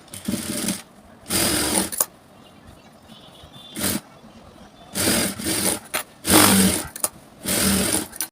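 A sewing machine stitches blouse fabric a quarter inch from the edge in loud close bursts of whirring, several runs of about a second each separated by pauses, with no talk.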